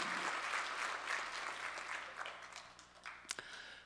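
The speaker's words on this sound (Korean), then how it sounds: "우리 아버지 하나님께 감사와 영광의 박수 올립시다." Church congregation applauding during a New Year Sunday worship service, a broad wash of many hands clapping that fades gradually, with a few sharper claps near the end.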